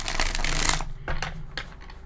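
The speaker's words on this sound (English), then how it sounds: "I already shuffled a lot off screen, but they're still not feeling right." A tarot deck shuffled by hand, a dense papery rustle at the start followed by several shorter flicking bursts, close and moderately loud.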